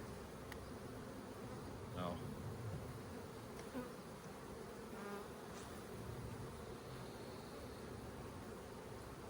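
Honeybees buzz around an open hive while it is being split, a soft steady drone with occasional louder passes of single bees flying close.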